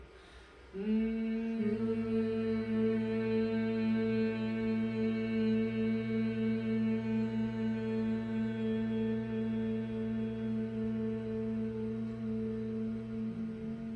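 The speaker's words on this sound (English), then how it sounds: "And now we hum." Several voices hum together in a sustained, steady drone during a Nada Yoga session, holding one pitch for many seconds, then stopping.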